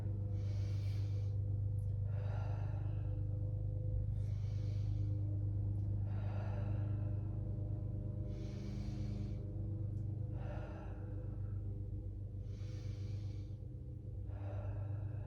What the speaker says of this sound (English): Inhale to reach, exhale back center.